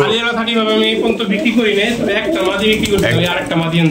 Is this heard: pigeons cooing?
yes